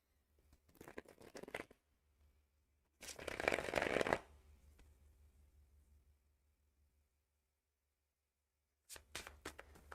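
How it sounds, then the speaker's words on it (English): Tarot cards are shuffled by hand in two close, crisp riffling bursts, a short one early and a longer, louder one in the middle, with another brief flurry at the end and quiet between. "let me shuffle and draw the cards for the super chat contributors."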